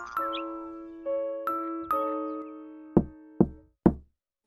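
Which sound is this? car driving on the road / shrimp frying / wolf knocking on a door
wolf knocking on a door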